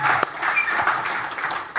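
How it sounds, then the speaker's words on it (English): A church congregation claps hands in a dense, even patter that runs throughout, with a louder single clap near the start and murmuring voices mixed in. "If you're happy and you know it, clap your hands."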